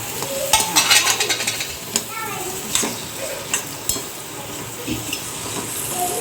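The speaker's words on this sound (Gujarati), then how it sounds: "લસણવાળી ચટણી નાખી દેવાની પછી એ થોડુંક તળાઈ જાય ને એટલે બટેકા નાખી દેવાના તરત" Potatoes frying in garlic chutney in a kadai, a steady loud sizzle with stirring scrapes and clinks of a spoon against the pan up close.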